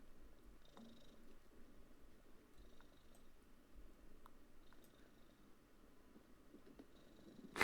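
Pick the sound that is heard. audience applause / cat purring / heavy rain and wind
cat purring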